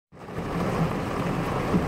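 Heavy rain during Hurricane Harvey, a dense steady hiss that starts abruptly and continues loud and unbroken, with no talking.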